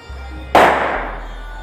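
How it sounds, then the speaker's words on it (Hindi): A single sharp firecracker bang during Diwali festivities, sudden and fairly close, its burst trailing off over a low steady background hum. "अभी दिवाली का टाइम है इसलिए गाइस पटाखे वटाखे बच्चे फोड़े"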